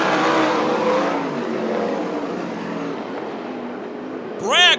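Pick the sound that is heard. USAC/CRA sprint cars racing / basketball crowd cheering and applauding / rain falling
USAC/CRA sprint cars racing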